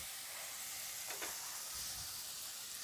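Ground tomato and onion paste frying in a pan for a spicy kurma-style dish makes a faint, steady sizzle with one brief stirring scrape midway, no talking.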